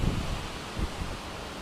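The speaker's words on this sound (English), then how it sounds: "Very windy." Strong wind from Hurricane Sandy buffets the microphone outdoors in Floral Park, New York, a rough continuous roar with brief louder gusts and no voices.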